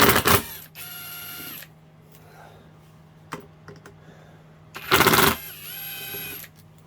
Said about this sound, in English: Actually need to impact them out. That one was super tight.